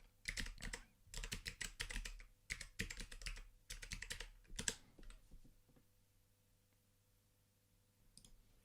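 Quiet, close computer keyboard typing comes in rapid bursts of key clicks with short pauses, tapering off into near silence with a couple of stray clicks at the end.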